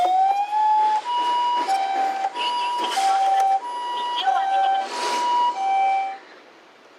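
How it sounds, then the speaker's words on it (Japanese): A toy ambulance minicar plays an electronic two-tone siren, alternating high and low notes in a steady loop, close and clear, before fading at the end. "どんなサイレンの音が鳴るかな。"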